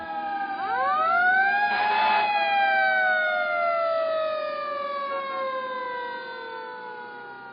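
An emergency vehicle siren wails near a roundabout, its rising and falling tone sweeping loud and steady for several seconds with no voices.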